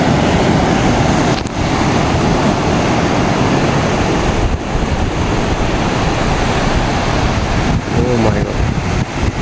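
Sea waves roll in at Gopalpur beach in Ganjam, a loud, steady broadband wash of surf with wind mixed in, continuing without a break.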